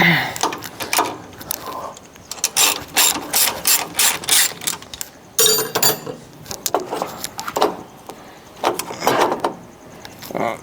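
A ratchet clicks in quick, sharp bursts as it tightens the bolts on a turbo compressor housing, close up, with short pauses between runs of strokes.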